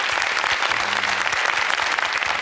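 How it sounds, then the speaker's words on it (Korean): Audience at a Korean talk concert clapping together, a dense, even burst of applause close and loud from start to finish, with a brief low voice murmur underneath. "박수 부탁드릴게요."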